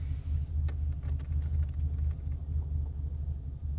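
Porsche GT3 Club Sport idling with a steady low engine rumble, heard from inside the car, with faint clicks and rattles over the constant drone.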